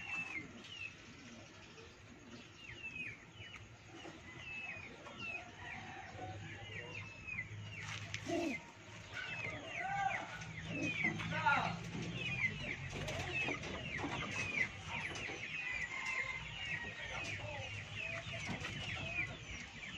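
Racing pigeon hens coo in a loft, with many soft overlapping calls from birds at varied distances over a quiet background, and a voice speaking faintly in the middle.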